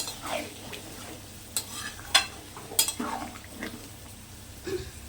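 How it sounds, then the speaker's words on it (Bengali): Pointed gourd simmering in a pan after a little water is added, a soft steady sizzle with stirring scrapes and a few sharp utensil clinks against the pan. "সামান্য পরিমাণে একটু জল দিয়ে দিলাম নতুন ধরনের পটলের"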